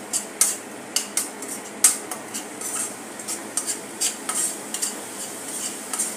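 Green masala paste for saandge gravy sautéed in a pan, with repeated sharp scrapes and taps of a spatula against metal over a faint, steady sizzle, close by with no voices.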